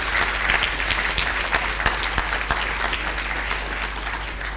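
Sustained applause from an event audience at an annual agricultural finance learning gathering, dense steady clapping throughout with no speech over it.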